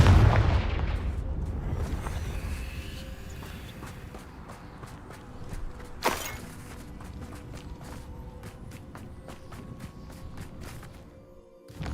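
Confringo fire spells blasting in Hogwarts Legacy: a loud explosive boom at the start that rumbles away, a second sharp blast midway, then scattered crackles and footsteps, with no talking.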